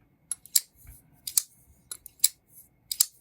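Button lock folding knife blade dropping shut repeatedly, about five crisp metallic clicks in an irregular rhythm with soft handling noise in between, close and clear with no talking.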